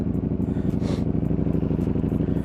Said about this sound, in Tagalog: Naririnig nyo ba yung exhaust? Malupit na tunog yan.